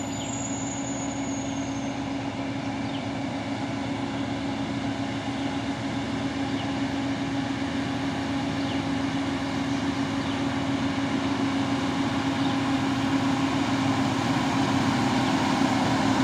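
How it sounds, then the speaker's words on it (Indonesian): A Fuso Super Grade truck climbs a hill in the right lane, its engine a steady, loud, heavy drone that holds level from start to finish with no voices. "Truk Trinton Fuso Super Grade jalur kanan."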